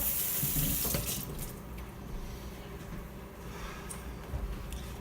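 Tap water runs steadily into a can set in a kitchen sink while kombucha is being made, a close, continuous splashing rush that eases slightly after the first second.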